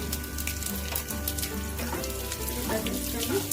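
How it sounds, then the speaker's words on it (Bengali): Bay leaves, dried red chillies and cumin seeds sizzle steadily in hot oil for a mutton dish, a continuous close crackling frying sound with faint clinks, no talking. "আমি তেজপাতা সম্বার দিয়ে দিলাম, শুকনো লঙ্কা সম্বার দিয়ে দিলাম, জিরা দিয়ে দিলাম"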